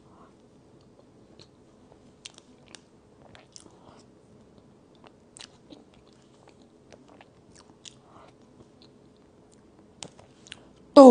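Close-mic chewing and biting of a purple sweet potato box cake layered with soy milk cream and pork floss, soft sticky clicks and small moist bites spaced irregularly over near silence, ending in a louder burst.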